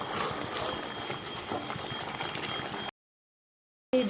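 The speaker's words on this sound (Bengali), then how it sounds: "এখন আমি দিয়ে দিব আগে থেকে করে রাখা ভেজে রাখা ভেন্ডিগুলো" Pre-fried okra tipped into hot spiced masala in a pan, giving a steady bubbling sizzle that suddenly cuts out, then briefly returns.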